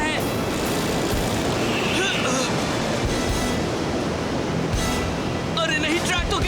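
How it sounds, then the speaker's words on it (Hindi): Rushing floodwater surges and roars in a cartoon, a dense, loud wash of churning water that swells fast, with brief squeaky cartoon effects over it. "पानी बहुत तेजी से चढ़ रहा है।"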